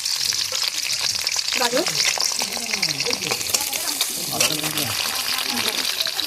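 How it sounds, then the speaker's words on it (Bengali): Chopped capsicum hisses and spits in hot oil for a street-style paneer roll, a close, steady frying sizzle with stirring while a voice speaks over it. "তেলটা আমার গরম হয়ে গেছে। এবার আমরা কেটে রাখা ক্যাপসিকামগুলো দিয়ে দিলাম"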